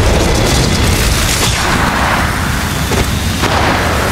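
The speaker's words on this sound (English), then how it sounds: "Throwing thermite grenade." Thermite grenade detonating in the mobile shooter Apex Legends Mobile during team deathmatch, a loud, sustained booming roar with crackling burn that fills the whole moment without letup.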